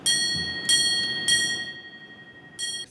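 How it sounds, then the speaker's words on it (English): A bell rings three times at uneven intervals at a 9/11 memorial ceremony at Naval Station Mayport, each strike ringing out clearly and fading slowly over a low background murmur. "there were three rings from this bell at three different times"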